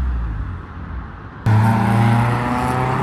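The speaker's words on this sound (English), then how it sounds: "We've got a little throaty Polo." A small VW Polo with a throaty exhaust sounds off at a Japanese-car meet in Reading, a steady engine drone that jumps suddenly louder halfway through and holds close and full.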